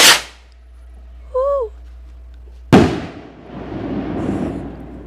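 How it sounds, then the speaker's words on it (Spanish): Hand-launched rocket (cohete) fireworks going off outdoors: a loud sharp blast opens, a brief whistle follows, then a second loud explosion with a long rumbling echo trailing away. "Y aquí estamos ya afuera para ver de una vez cómo truenan los cohetes."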